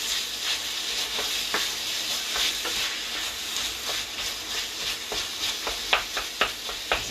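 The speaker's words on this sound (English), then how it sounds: "It's important that you break the mince up as much as you can." Minced chicken or ham frying with sage in a pan over medium heat, a continuous crackling sizzle broken by frequent sharp pops and spatula scrapes, close and fairly loud, with no talking.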